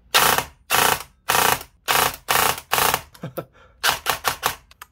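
A CYMA CM041G Platinum MP5 airsoft electric gun with a freshly serviced gearbox fires full auto in a string of short, loud, buzzing bursts, close up, with a quicker flurry of shots near the end.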